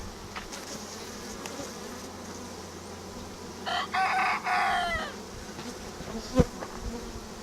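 Honey bees buzz steadily around a queen cage during a queen introduction, a low continuous drone close by, with a brief brighter burst in the middle and a single sharp tap near the end.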